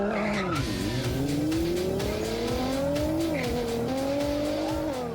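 A high-powered car at a night street meet among abandoned factories in Russia revs hard with rising and falling engine pitch, tires squealing and skidding, loud and close with no talk.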